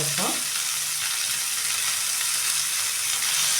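Garlic, onion and curry leaves frying in a pan for tomato chutney, a steady loud close sizzle and crackle with a brief stir at the start, continuing without talk.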